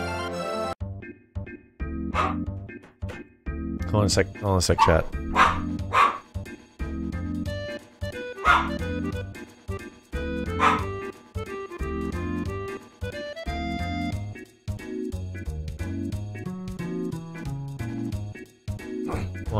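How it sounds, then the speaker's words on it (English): Puppies bark repeatedly in sharp, yappy bursts, loud and close, overlapping a steady electronic music bed, and someone briefly speaks over them. "You're just making the puppies bark."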